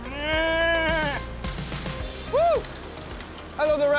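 Sheep bleat repeatedly on the Northern Ireland North Coast, with loud, close, wavering calls and a shorter bleat in between, over outdoor background noise.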